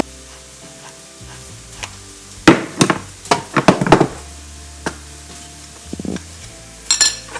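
Beef stew ingredients are stirred in a pot, with a run of scraping, clattering spoon strokes in the middle over a low sizzle, then a few more scrapes near the end.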